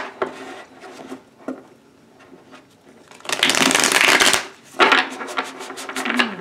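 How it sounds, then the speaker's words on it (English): A deck of cards being shuffled: a few soft taps and riffles, then two loud, close, crisp riffle shuffles in quick succession. "So let's do one more good shuffle."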